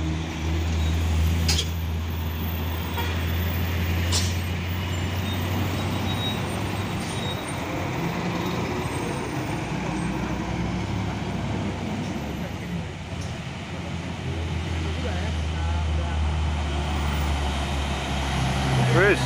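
Pertamina tanker trucks on an uphill road, their engines rumbling loud and steady with heavy low drone throughout, joined by other traffic; a couple of sharp brief hisses suggest air brakes releasing.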